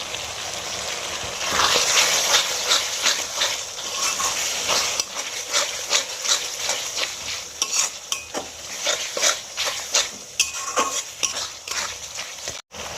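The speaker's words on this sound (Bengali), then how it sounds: "মশলাটা আমার ফুটছে," A spice mixture for restaurant-style chilli soybean, with capsicum, salt and pepper, bubbles and sizzles in a pan. A spoon scrapes and stirs it in a brisk, uneven rhythm, close and fairly loud.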